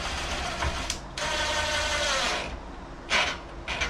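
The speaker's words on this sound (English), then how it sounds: "Finish tightening the first screw." A screw being tightened on a kitchen cabinet handle, giving close mechanical ratcheting and whirring bursts separated by brief pauses, with a short final burst near the end.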